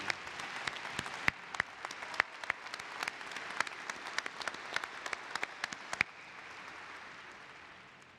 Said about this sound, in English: can we have another round of applause congratulating our new Doctors of Education?